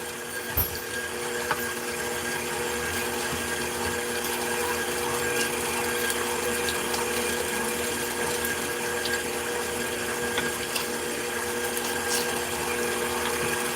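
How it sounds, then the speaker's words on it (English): KitchenAid stand mixer meat grinder pushing fat through while making sausage, a steady whirring motor drone with a constant hum and occasional small clicks, close and continuous. "it makes such a weird noise when the fat comes through"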